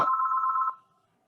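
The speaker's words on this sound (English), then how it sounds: "I apologize for the phone ringing in the background" A telephone rings in the background of a special meeting, one steady electronic trill lasting under a second, then cutting off into near silence.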